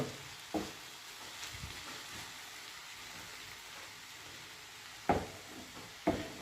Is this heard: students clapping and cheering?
no